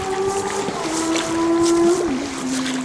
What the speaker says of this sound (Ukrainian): Хтось попер на мотоциклі.